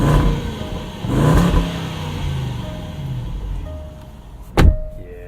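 A 2018 Range Rover Sport with a supercharged V8 revs in short bursts, rising and falling close up, followed by a sharp thud near the end.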